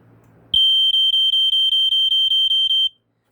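A BRK 1200 smoke detector sounding during a demo: after a brief handling noise, a loud, piercing high beep pulses rapidly about a dozen times, then cuts off to silence.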